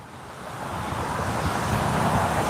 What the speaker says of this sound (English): It's really windy out here, friends. Can you hear the wind?